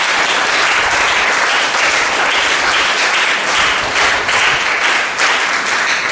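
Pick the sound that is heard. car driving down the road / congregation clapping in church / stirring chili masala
congregation clapping in church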